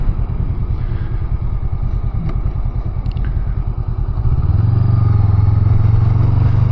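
Honda Rebel 500 parallel twin engine on the interstate: a steady, smooth, low-pitched throb with wind rush, rising to a louder sustained drone partway through as the revs hold, close and continuous.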